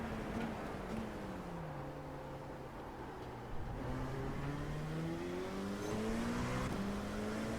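An LMP2 prototype race car in a racing video game drives steadily, its engine tone rising and falling through gear changes, with a higher whining note climbing toward the end. The engine stays loud and continuous, with no talk.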